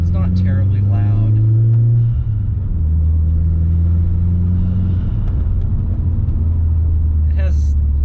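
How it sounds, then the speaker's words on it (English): A 1.8T VW Beetle with a 3-inch catless turboback exhaust idles and revs, giving a deep, steady exhaust drone that rises in a rev near the start, with a voice talking over it. "It's definitely not quiet by any stretch, but it's not terribly loud."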